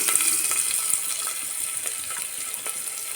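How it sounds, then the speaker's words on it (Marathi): Chopped small onion frying in well-heated oil for mutton curry, a steady close sizzle with faint crackles and light stirring scrapes, no voices. "तेल चांगलं गरम झालेलं आहे आपलं यामध्ये घालायचं आपल्याला एक कांदा छोटा कांदा आहे"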